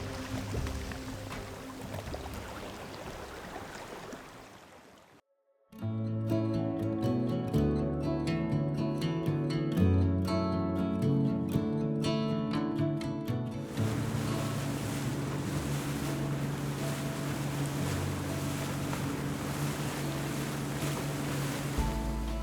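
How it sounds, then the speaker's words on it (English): Sea waves along the Batumi boulevard on the Black Sea coast of Georgia, a steady broad wash of surf with wind, briefly cut off and then mixed with music before the waves continue alone. "the sound of waves brushing the boulevard"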